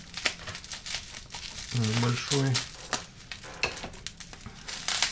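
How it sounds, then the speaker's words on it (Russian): A small plastic packet being unpacked gives bursts of crinkling and rustling, close and moderately loud, mixed in with someone talking. "Давайте распакуем еще вот этот пакетик"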